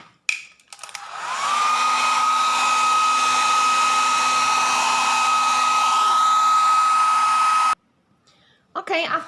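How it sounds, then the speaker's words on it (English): A hair dryer blows over a varnished decoupage surface, switching on with a rising whir into a steady, loud, close whine for about seven seconds before cutting off, followed by a brief voice. "After that, blow dry."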